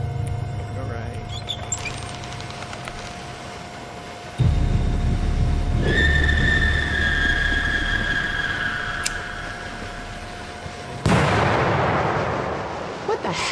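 Explosions in the video game Suffer the Night: a loud, low rumbling blast erupts midway and holds over a steady hum with a thin tone, and a second sharp burst strikes near the end.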